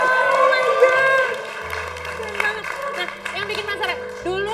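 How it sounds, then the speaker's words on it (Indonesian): Studio audience applause on an Indonesian talk show, a burst of clapping with some cheering that thins out over several seconds, mixed with a host's voice speaking over it. "Tepuk tangan dulu dong"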